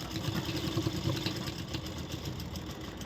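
A sewing machine stitches along the reverse side of a blouse, giving a quiet, steady motorized whir with a fine rhythmic stitching pulse that runs unbroken throughout.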